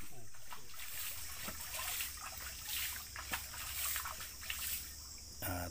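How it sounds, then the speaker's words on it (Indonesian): Muddy, sediment-laden river water poured out while catching freshwater prawns: a faint, uneven trickling and dribbling with small splashes and drips, continuing steadily at low level. "Tu teknik buang keladak air."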